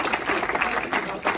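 Audience at a book fair inauguration in Saint-André applauding volunteers, steady dense clapping from a crowd filling the short moment, fairly close and loud.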